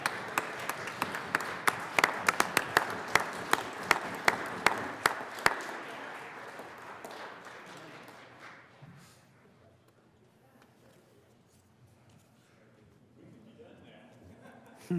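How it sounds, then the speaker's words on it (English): Colorado state senators applaud in the Senate chamber, a burst of scattered, distinct claps lasting several seconds that thins out and fades into a quiet room murmur. "Let's give them a round of applause, especially Senator Zenzinger for passing her final budget for the state of Colorado."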